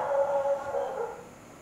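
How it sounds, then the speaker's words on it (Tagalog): A dog howls nearby in one sustained, wavering, loud tone that slowly fades out, with no talking. "Kaingay naman ng aso."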